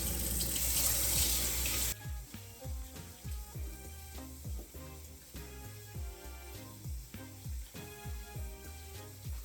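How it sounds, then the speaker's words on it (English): Hot water runs from a kitchen tap over frozen chicken to thaw it, a steady close splashing stream that starts loud and settles into a softer, fluctuating flow. "turn on the hot water and melt it a bit."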